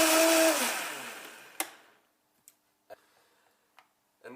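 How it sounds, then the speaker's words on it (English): A blender whirs loudly blending a green smoothie, then winds down into silence, followed by a few sharp clicks and light taps. "we're ready to blend"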